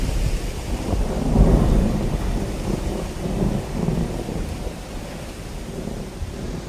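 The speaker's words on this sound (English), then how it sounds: "there's a big storm coming" Thunder rumbles low and heavy over a steady hiss of rain during a storm on Koh Tao, Thailand, one deep roll swelling early and fading into the continuous downpour.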